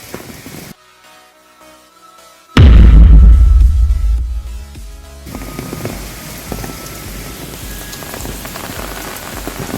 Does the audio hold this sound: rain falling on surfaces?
yes